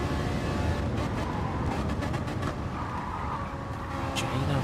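Racing cars in a game at Monza, a Ferrari leading a Citroen in the slipstream, their engines droning steadily and loudly close by with faint tyre noise throughout.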